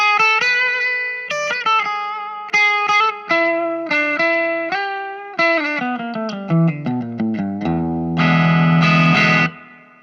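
Distorted electric guitar plays a melodic phrase through a Vox AC10C1 amp with reverb at about 20%, notes ringing with a light reverb tail and a loud strummed chord at the end.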